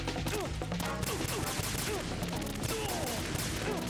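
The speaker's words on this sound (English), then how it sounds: "I can't see who I'm shooting." Rapid gunfire in the video game Metal Gear Solid 2, dense bursts of shots crowded together and layered over other chirping game effects, loud and continuous.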